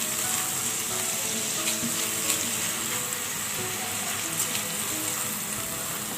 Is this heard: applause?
no